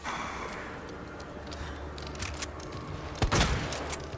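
A gunshot in the survival horror game Resident Evil 2, a single sharp loud blast near the end, preceded by low rumbling ambience and faint thuds.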